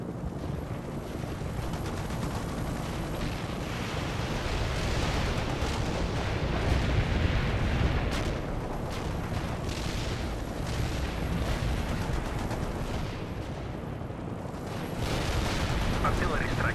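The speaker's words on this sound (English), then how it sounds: "Artillery strike on the way. Heavy fire support here." Heavy artillery barrage in the World in Conflict Soviet campaign: a dense, continuous roar of rumbling detonations and booming impacts that swells to a peak midway, dips briefly, then surges again, loud and close throughout.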